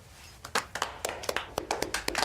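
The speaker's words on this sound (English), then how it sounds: "Round of applause." A short burst of scattered hand claps from a small group, uneven and irregular, fairly close, with no voices over it.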